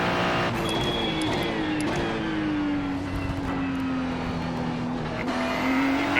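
Ferrari GT3 race car in the iRacing game on the Charlotte Roval, engine droning steadily at high revs while the car slides wide, faint tire scrub over the continuous loud roar.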